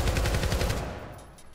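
Rapid automatic gunfire in the video game Syndicate, a dense burst of repeated shots at close range that thins out and fades toward the end, with no talking.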